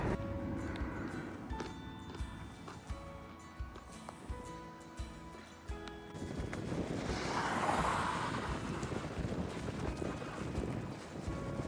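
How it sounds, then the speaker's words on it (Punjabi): A strong headwind buffets the microphone on a hilltop, roaring in uneven gusts that swell louder partway through. No one speaks. "ਇੱਥੇ ਹੀ ਟੱਪ ਤੇ ਹਵਾ ਬਹੁਤ ਚੱਲਦੀ ਹੈ ਤੇ ਅੱਜ ਵੀ ਆਪਾਂ ਨੂੰ ਹੈਡਵਿੰਡ ਦੀ ਟੱਕਰੀ ਆ"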